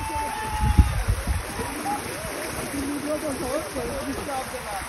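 Floodwater near Malang Gad being waded through, with splashing and rushing water rising to a burst of footsteps early on, then a steady flow while people talk over it.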